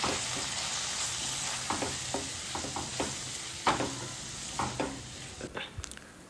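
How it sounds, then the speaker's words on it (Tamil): A steady sizzle of mint, salt and biryani masala frying in oil with intermittent scraping and stirring clatter from a spoon in the pan, close by. "உப்பு, பிரியாணி மசாலா நான் சேர்த்து இதில் நல்லா எண்ணெயிலே வதக்கிக்கிறேன்"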